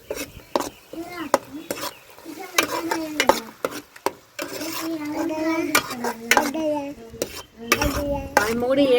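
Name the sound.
stirring tomato egg curry in pot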